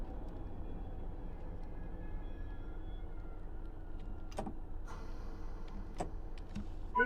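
A Great Western Railway train on the Riviera Line toward Paignton in Train Sim World 6, with a steady low rumble of running rolling stock and a few sharp clicks and knocks near the end, and no voices.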